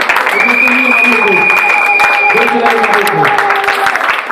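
A church congregation at a Sunday service applauds and cheers in praise of Jesus Christ, with broadband clapping running throughout alongside sustained voices, shouts and a held tone.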